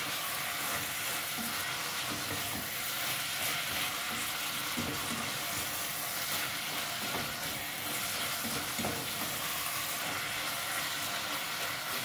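Ground meat frying in oil in a pan while cooking a sauce, a steady close crackling sizzle with soft stirring scrapes, constant in level throughout, with no talk.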